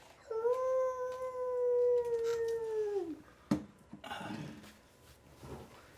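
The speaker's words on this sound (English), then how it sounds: "Is it the right time of day for wolf howls?" A single long wolf howl rises and holds steady for a few seconds, then drops off, followed by faint rustling in a quiet forest setting.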